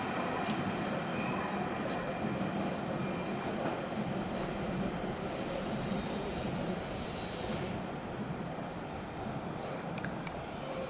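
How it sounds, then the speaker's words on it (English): A London Underground Central Line train rolls steadily along the rails near Roding Valley station with a constant loud rumble, a high wheel squeal rising midway, and rhythmic clicks from the track. "the train merges with the main line"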